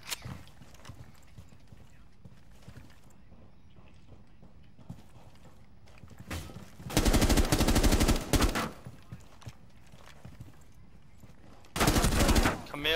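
Gunshots in the video game Rainbow Six Siege, realistic mode: two loud bursts of rapid automatic fire, the first about two seconds long and the second shorter, standing out over quieter in-game ambience and scattered clicks.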